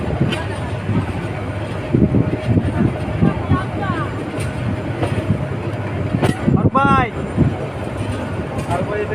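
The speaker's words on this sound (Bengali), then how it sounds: "এই তো ট্রেন ছেড়ে দিয়েছে আবার যাচ্ছে" A passenger express train pulls out of a station, its steady rumble and clattering wheels running throughout with squealing metallic screeches near the end, while someone talks over the noise.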